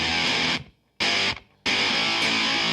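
Electric guitar through a Paradox Effects Defibrillator distortion pedal, three loud, harsh, saturated chord strikes, each held briefly and then cut short by sudden silence, with no talk.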